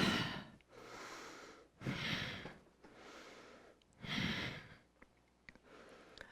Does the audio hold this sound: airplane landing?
no